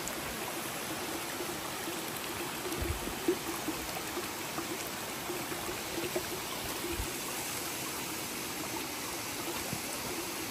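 A small waterfall beside an ice cave in the Washington mountains, with melting snow nearby, rushes steadily and fairly close, a continuous broadband splashing roar with faint droplet texture throughout and no voices.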